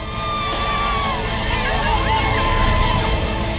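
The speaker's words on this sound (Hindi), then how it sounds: "खामोश जंगल में चलती कार के अंदर से निकली चीख पूरे जंगल ने सुनी।" People shout and scream from inside a car as lions attack it in the wild. The shrill cries overlap and rise and fall in pitch over a loud, dense rumbling background.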